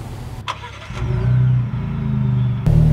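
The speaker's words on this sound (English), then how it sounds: "Can you fire her up for me?" A 2022 Ford Bronco with an AWE exhaust starts up: a brief starter crank, then the engine catches into a loud, close, rumbling idle that swells and dips, with a sharp rev at the end.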